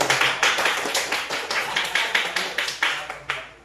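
Fourth-grade elementary classroom applause for a student group, a steady burst of many children clapping with rhythmic pulses and fading swells, fairly close and without talk.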